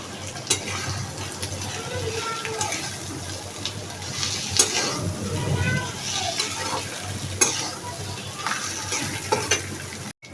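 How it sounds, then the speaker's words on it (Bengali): Fried eggs being stir-fried in spice paste in a pan, with continuous sizzling, spatula scrapes and clinks at close range, ending in a sudden cut. "তো মশলার সাথে ডিমগুলিকে একটু কষিয়ে নেব"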